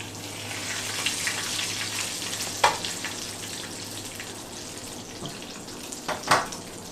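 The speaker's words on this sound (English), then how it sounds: "So egg rolls does not take that long to cook at all." Homemade egg rolls frying in hot oil, a steady close crackling sizzle with a few sharper clatters and bursts toward the end, no talking.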